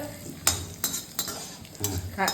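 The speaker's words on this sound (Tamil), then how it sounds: "கடுகு உளுத்தம்பருப்பு காஞ்ச மிளகாய் எல்லாம் போட்டு நல்லா பொன்னிறமாக வறுத்துக்கணும்" Mustard seeds, urad dal and dried chillies fry in hot oil with a light sizzle, while a spoon stirs them in several quick scraping strokes, close and without talk.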